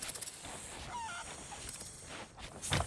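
A chicken in the pirate game Sea of Thieves, giving several quick rhythmic clucks and honking squawks in short bursts, fairly faint against a noisy background.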